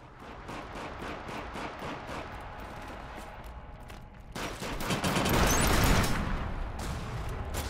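Gunfire in Killzone Shadow Fall online multiplayer, rapid sustained bursts of automatic shots that grow louder and denser partway through, close and continuous, no talking.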